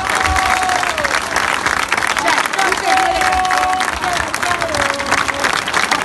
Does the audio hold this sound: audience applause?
yes